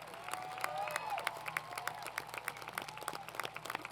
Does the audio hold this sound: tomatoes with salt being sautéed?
no